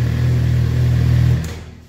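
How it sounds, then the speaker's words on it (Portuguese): A Suzuki GSX motorcycle engine, during a check of its exhaust valve control cables with the injection warning light on, hums loudly and steadily with a low throb for about a second before cutting off and fading away. "Vou ligar aqui o motor"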